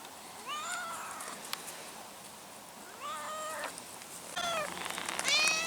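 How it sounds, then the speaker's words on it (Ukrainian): A cat meows several times in a row beside an autumn float-fishing spot, clear and fairly close, with short pauses between the drawn-out mews and no voices. "сидить тут нявкає"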